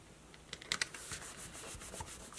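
Paper being burnished down onto a cardstock craft project, a soft continuous rubbing with small scraping strokes, close and quiet with no talking.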